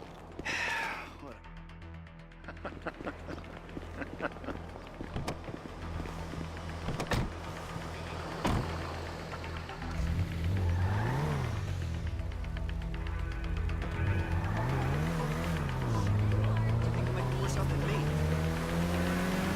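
A car driving in Grand Theft Auto V, its engine revving and shifting through rising pitch sweeps that grow louder toward the end, with voices talking over it.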